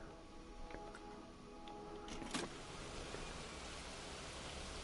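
Heavy rain in the theme-park video game Planet Coaster 2, a steady soft hiss of falling water with a few faint clicks and tones early on, no voices.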